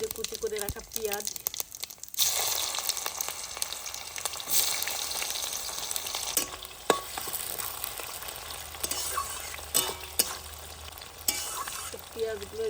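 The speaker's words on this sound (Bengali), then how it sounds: "পেঁয়াজগুলো এই যে সুন্দর করে ভেজে নিয়েছি।" Chopped onions sizzle steadily in hot oil with cardamom, star anise, cloves, cinnamon and cumin in a village-style chicken curry, with scraping stirs and crackling throughout, close up and continuous.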